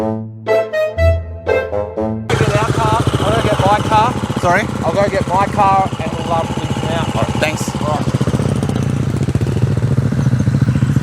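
A motorcycle engine revs and idles nearby, steady and loud, with people talking over it; a short burst of other sounds opens the clip.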